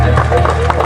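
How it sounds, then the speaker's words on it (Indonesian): An audience at a church thanksgiving and retirement service in Kupang applauding, a brief burst of close, dense clapping mixed with some crowd murmur. "Mari kita tepuk tangan untuk Ibu Betty"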